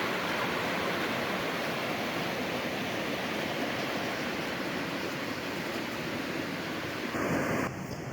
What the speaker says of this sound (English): I'm just gonna show you a couple seconds of the creek. It's flowing beautiful today.